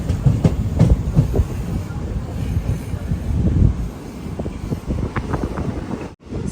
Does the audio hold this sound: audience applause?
no